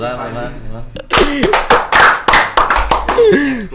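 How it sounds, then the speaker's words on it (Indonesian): Hand clapping in a podcast studio: a few sharp, close claps in quick bursts, mixed with loud laughter and excited voices of the hosts, following a short stretch of talk. "tepuk tangan."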